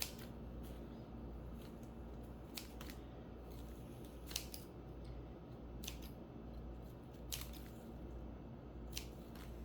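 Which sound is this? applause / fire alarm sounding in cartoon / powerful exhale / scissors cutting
scissors cutting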